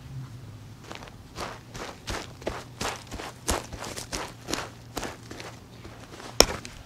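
Footsteps tread through soggy, squishy, fertile ground in a wet taro-growing area, a steady series of soft, muffled squelching steps at close range that are fairly quiet, with one sharper crack near the end.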